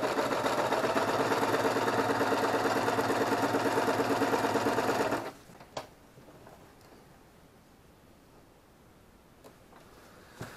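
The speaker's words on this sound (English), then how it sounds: "Instead of running the material through the machine like last time, so this edge should be a bit simpler." A sewing machine runs steadily while stitching the edge of hammock material, a close, loud whirring rattle for about five seconds before stopping abruptly, followed by quiet handling and a few soft clicks.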